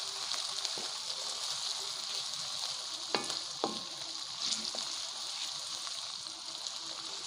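Onions fry in oil, a dense steady sizzle close up, with a couple of brief spatula scrapes partway through and no voices.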